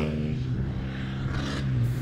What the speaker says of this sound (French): Le nouveau flat répond vivement des 2000 tours par minute